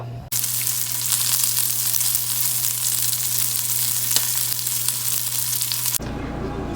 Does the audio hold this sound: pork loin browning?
yes